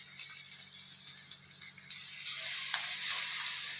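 Pieces of chicken kebab dropped into hot oil, with a steady close sizzle that grows louder and denser partway through as more pieces go in, no talking.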